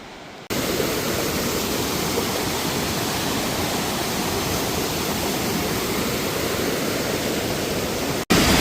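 The Tons river rushes past in a loud, steady roar of flowing water, close by and unbroken for several seconds with no talking.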